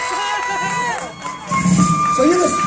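A school crowd cheers and children shout in a loud, busy burst, with a voice speaking over the noise.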